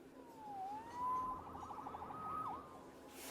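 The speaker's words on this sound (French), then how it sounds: "Sauvé par les sirènes." Police car sirens in Spider-Man Remastered wail in a rising and falling sweep over a rumbling city background. They sound moderately distant and go on for about three seconds.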